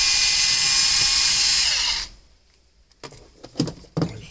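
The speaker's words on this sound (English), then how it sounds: "first thing we got to do here is take out these screws here" A power drill runs steadily, backing screws out of a 1997 Jeep TJ's interior panel, then winds down and stops; a few short clicks and knocks of handling follow in the quieter second half.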